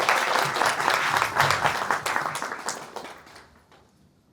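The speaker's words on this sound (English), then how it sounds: "A round of applause to Steve." An audience at a VIP gala night applauds, a burst of steady clapping that holds for a few seconds and then tapers away into near silence.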